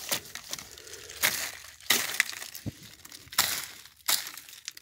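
Repeated crunching and crackling of glass being crushed, several sharp bursts spaced about a second apart, close and fairly loud.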